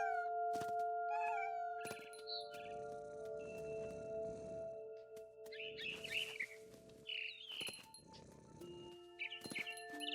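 A cat meows in the What Remains of Edith Finch video game, several short calls spread across a game soundscape with chirping birds and clinking effects, no talk.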